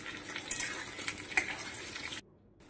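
Onions and green chillies fry in hot oil with a steady hiss, broken by a couple of sharp clinks from a utensil against the pan, before the sound cuts off abruptly.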